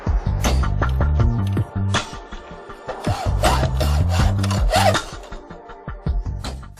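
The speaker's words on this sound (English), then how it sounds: "we need to clamp it securely and cut it with a fine tooth hacksaw" A fine tooth hacksaw cuts through galvanised steel-core FSU flexible conduit clamped in place, a loud, close series of rhythmic rasping back-and-forth strokes with short breaks between them.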